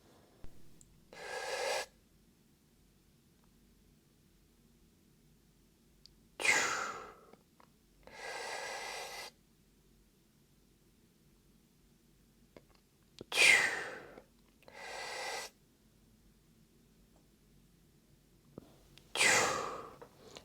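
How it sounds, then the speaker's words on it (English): Breaths during a Romanian deadlift exercise come in four separate paired bursts, each a sharp inhale or exhale roughly every six seconds, close and clear against near silence, with no talk. "In terms of breathing, this is how it should look like during this exercise."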